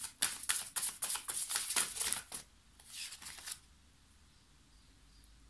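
Oracle cards of Mary, Universal Mother, shuffled and drawn from the deck: a run of crisp papery flicks and slaps close by, then a pause, a softer rustle, and near silence.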